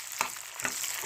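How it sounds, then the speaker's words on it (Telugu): Ivy gourd sizzles steadily as it slow-fries in a 30-to-40-year-old iron pan, with two brief louder bursts, as if from stirring, rising over the continuous close frying hiss. "ఇవి కొంచెం వేగాలండి,"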